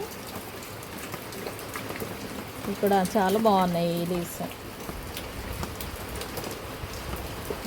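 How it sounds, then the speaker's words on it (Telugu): Rain falls on a terrace garden full of potted plants, a steady soft patter close around, with someone speaking briefly midway over it. "ఇప్పుడు స్టార్ట్ చేశాక వర్షం వస్తుంది"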